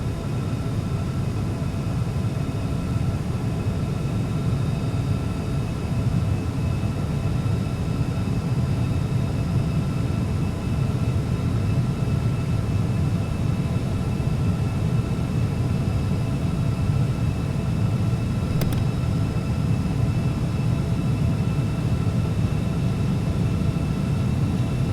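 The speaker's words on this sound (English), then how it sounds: "please enjoy the takeoff of the FA50" Carenado FA50 business jet taking off in the Prepar3D flight simulator: a steady, loud jet engine roar and rumble with a constant whine on top. The sound holds unchanged for about 25 seconds with no voices.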